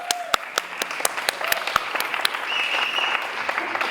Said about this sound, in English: They want to applaud, so let's do it.